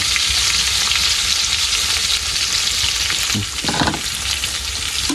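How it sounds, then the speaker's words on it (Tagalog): Garlic and aromatics sautéing in oil for Filipino mung bean stew (ginisang monggo), a steady, close, loud sizzle throughout with a brief stirring scrape near the end. "gisa natin kanyang ricado"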